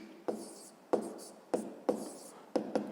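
Pen writing a sum on paper for a fifth-grade maths exercise, six sharp strokes landing in an uneven rhythm, each with a brief scratch, close and clear against a quiet background.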